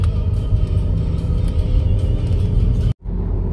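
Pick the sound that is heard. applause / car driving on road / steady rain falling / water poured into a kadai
car driving on road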